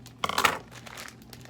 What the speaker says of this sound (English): I'm going to grab my scissors, and I'm going to cut the top of the bag of my caramel